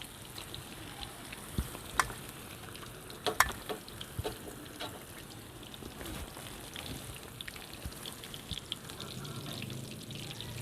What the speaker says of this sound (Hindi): ये चिकन गर्दन फ्राई हो चुकी है, ये हम अभी निकालते हैं।